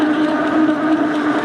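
An electric bike motor spins up at pedal assist level 4, giving a steady, continuous whine with a hum beneath it and roughly even loudness throughout.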